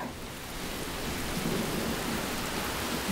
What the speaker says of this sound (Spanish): Está lloviendo con furia